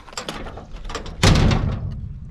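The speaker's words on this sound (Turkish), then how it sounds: "Kapıyı kapatalım." A barn door on a Turkish cattle farm being pushed shut, with scraping and rattling mechanical clatter followed by a loud, sustained scrape or slam partway through; no talking.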